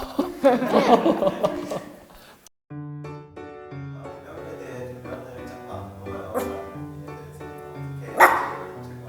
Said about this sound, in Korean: 지금 마루가 이렇게 짖을 때는 절대 간식 주시면 안 돼요